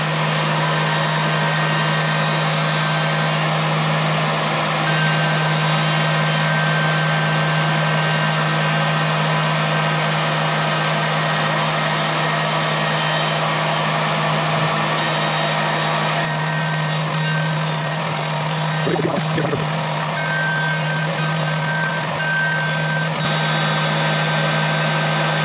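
A Tormach 770M CNC mill cutting a wooden toy puzzle hums steadily and loudly, with a constant motor drone and a high whine, and brief changes in the cut near the end.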